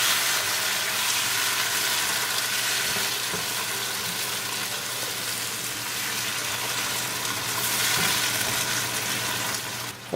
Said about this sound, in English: and we're going to mix it well.